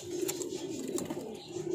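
Low, soft cooing of red pigeons close by, a murmuring repeated call that continues steadily, with faint flutters and movement behind it.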